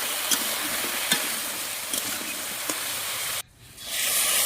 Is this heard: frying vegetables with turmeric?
yes